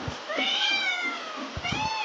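A cat meows twice in drawn-out, wavering cries, close and clear, with faint low thumps in the background, as fish is being cut nearby during heavy rain.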